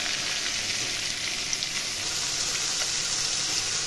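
Black cumin seeds frying in hot oil, a steady close sizzle with fine crackling that holds evenly throughout with no voices.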